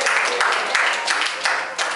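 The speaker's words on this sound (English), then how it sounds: "Somebody clap your hand." Church congregation claps hands during a sermon, a continuous busy patter of clapping at moderate loudness with bursts of emphasis and a few voices underneath.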